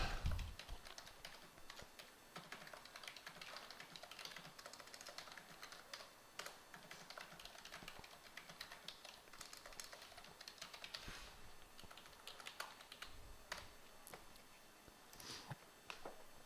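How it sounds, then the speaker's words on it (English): Someone types a message on a computer keyboard in a Skype chat window, a fast, irregular run of quiet close key clicks and taps continuing throughout with no talk. "I can just type a message"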